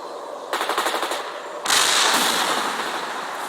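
Machine gun fire in the World in Conflict war game, a rapid rhythmic burst followed by heavier sustained firing and rumbling blasts, loud and close with no talking.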